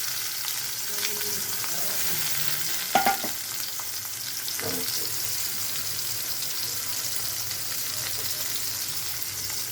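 Chopped onion frying in oil in a pan with torn bay leaves and cardamom pods for a chicken and potato curry: a steady, close sizzle throughout, with a couple of sharp spatula stirs partway through and no talk.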